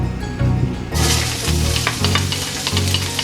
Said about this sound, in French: on incorpore les oignons coupés en rond. Il faut roussir les oignons